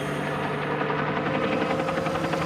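A low, steady engine drone with a rhythmic thumping pulse hangs in the air, like a helicopter hovering overhead, continuous and fairly loud.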